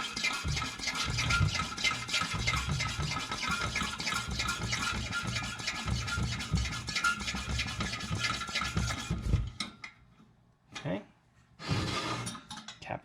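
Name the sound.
pumping Coleman 500 stove fuel tank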